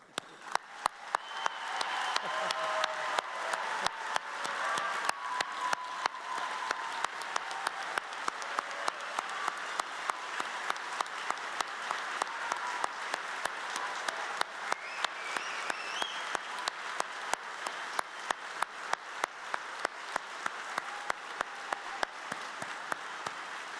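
A graduation-ceremony audience gives the class of 2022 a standing ovation at a white coat ceremony, producing sustained, dense applause from a large crowd in a hall that holds steady for over twenty seconds.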